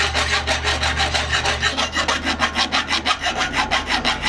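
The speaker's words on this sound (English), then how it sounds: "file it to remove burrs and give it a smooth finalization" Hand file rasping along a handmade knife handle to take off burrs, a steady series of rhythmic back-and-forth strokes up close with no talk.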